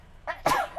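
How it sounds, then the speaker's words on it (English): A single sharp human sneeze, close and loud, with a brief intake just before the burst and no talk around it. "I just recorded my sneeze."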